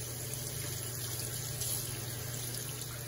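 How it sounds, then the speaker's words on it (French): A tap runs steadily into a sink while hands are rinsed, a constant close hiss of flowing water with no voices. "Rincez-vous les mains."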